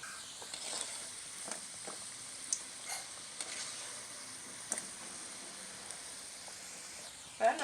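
Sweet maida poori frying in hot oil gives a continuous soft sizzle with occasional pops and stirring clinks, close and fairly quiet, with a louder clatter at the end.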